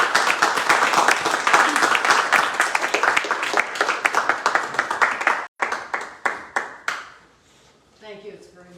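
Loud, dense clapping from a poetry reading audience fills the room, then thins into scattered individual claps that fade out as a voice begins speaking.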